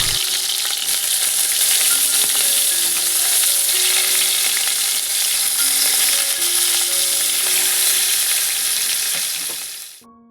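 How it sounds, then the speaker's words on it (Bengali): Pointed gourd (potol) coated in salt and turmeric fries in mustard oil in a wok over a medium flame, giving a loud, continuous sizzle with light stirring clinks that stops abruptly near the end. "গ্যাসের ফ্লেমটা মিডিয়ামে রেখে পটলটাকে একটু লাল লাল করে ভেজে তুলে নেব।"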